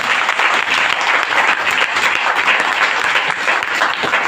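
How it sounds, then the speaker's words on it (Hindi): Loud, continuous applause from a crowd at a seminar in Ludhiana, Punjab, a dense and even roar of many hands clapping with no gaps. "यस, एक बार जबरदस्त तालियां आपने ली।"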